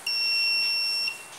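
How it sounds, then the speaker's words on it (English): A 555 timer buzzer circuit on a 5 volt supply emits one steady, piercing electronic tone that holds for about a second and then stops, leaving faint room hiss. "we're going to make a 555 timer buzzer circuit"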